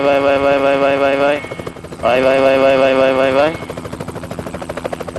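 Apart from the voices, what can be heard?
rescue helicopter hovering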